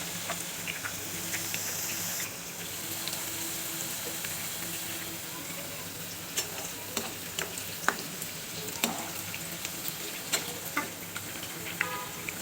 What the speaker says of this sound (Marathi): अशा प्रकारे आपलं तेल गरम झालंय. आता त्याच्यात आपण टाकू केळी चिप्स.